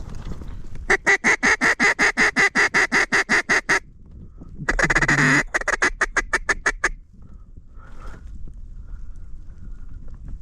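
Mallard ducks quacking near an island during a kayak duck hunt, a fast run of loud rhythmic quacks, a brief raspy burst, then more quacks that fade to quiet calls at the end.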